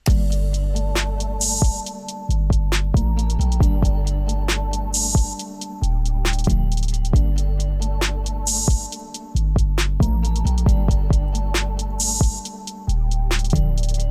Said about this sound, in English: Last but not least, we added an 808 and a crash just to finish everything off